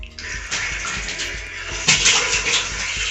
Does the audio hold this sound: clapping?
no